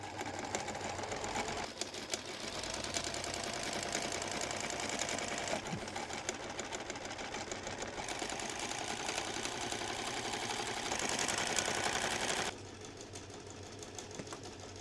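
Sewing machine stitching camper blind fabric, a fast continuous mechanical whirr with rapid needle clatter running close and steady, briefly easing near the end.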